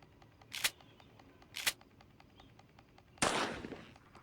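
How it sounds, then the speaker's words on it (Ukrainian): Two sharp, clicky shotgun shots a second apart in the video game Granny 2 are followed by a louder, fuller blast with a short decaying tail. "Беру дробовик і стріляю по мішенях."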